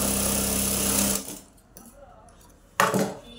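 A sewing machine stitches saree fabric in a loud fast whirring burst, stops, then starts again briefly after a quiet pause with faint handling noises.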